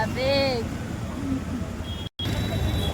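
Late-night road traffic in Koramangala rolls past as a steady engine rumble, with a brief tonal horn-like blare at the start and a voice talking over the street noise.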